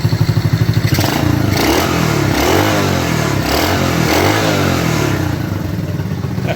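A Honda C90 Cub motorcycle engine, freshly revived during a restoration, putters steadily and close, its small single-cylinder beat pulsing evenly with mechanical clatter throughout.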